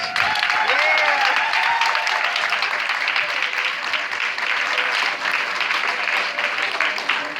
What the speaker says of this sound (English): Y'all give Brother Scrill a round of applause.